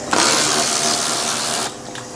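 Power tool spins out 10mm screws on a BMW F32 4 Series, a steady close whirring burst lasting about a second and a half before cutting off, with a faint brief blip afterward.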